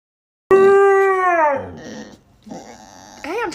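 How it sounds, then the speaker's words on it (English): A dog on a walk gives a long, loud, close howl that bends downward, then short whining yelps and a rising, wavering cry, with no other voices. "George, you promised to be a good boy on our walk and no barking at the little dogs."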